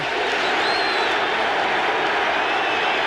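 Huge stadium crowd roaring continuously at a 1982 NFL game between the Minnesota Vikings and Detroit Lions, a dense, loud, unbroken wall of yelling.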